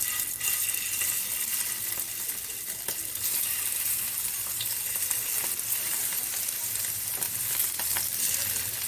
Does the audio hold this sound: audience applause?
no